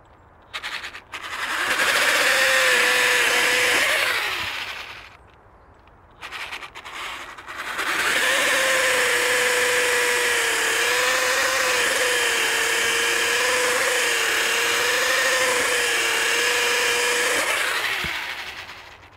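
An Echo eFORCE 56V DPAS 2100SB battery pole pruner chainsaw cutting garden branches, its steady high motor whine running in two long bursts with a brief pause between, loud and close with no talk.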